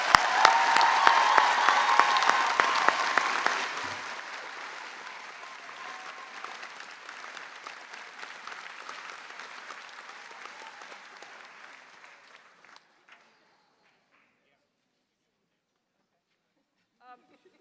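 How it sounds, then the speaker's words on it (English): A commencement crowd applauds its graduating master's and doctoral students, loud clapping at first that thins and fades steadily over about twelve seconds before falling silent. "Let's give our graduating master's and doctoral students another round of applause"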